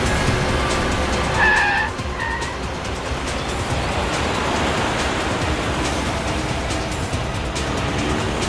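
A car drives fast under a constant loud roar of engine and road noise, with a brief tire squeal early on as it skids.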